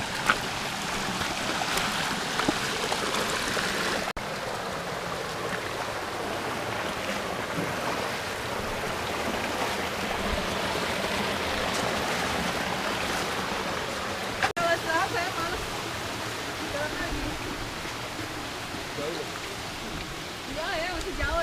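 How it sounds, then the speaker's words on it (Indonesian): A river rushing beside a jungle trail in Kerinci Seblat National Park, a constant broad roar of flowing water that runs unbroken throughout, close and loud, with faint voices beneath. "sepanjang perjalanan menuju ke Manggis kita akan terus menyusuri sungai."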